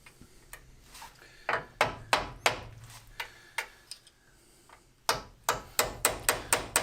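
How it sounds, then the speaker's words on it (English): Hammer peening a drive shaft nut on a BMW MINI R50: sharp metallic strikes in uneven groups, then a faster run of evenly spaced blows, close and loud with no talk. "And then we need to peen this side as well."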